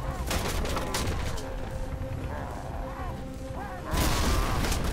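Guns fire in the shooter game Raiders of the Broken Planet, bursts of rapid shots and booms in clusters, with a loud volley at the end and a voice talking intermittently.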